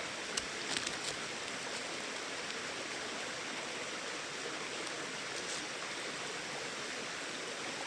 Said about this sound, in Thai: แล้วน้ำเนี่ยมันเสียงดังนะครับ มันไหลแรงนะพี่